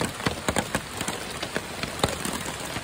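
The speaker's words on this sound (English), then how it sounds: "It's been raining all night, super windy." Steady rain falls through a windy October night at a lakeside campsite on a Maine canoe-camping trip, a constant wash of patter punctuated by sharper, close drops striking a surface, with no voices.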